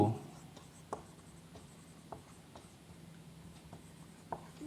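Statements being written on a board, heard as faint, sparse taps and scratches of a marker or chalk in a quiet room, with soft clicks spaced about a second apart and low background hum.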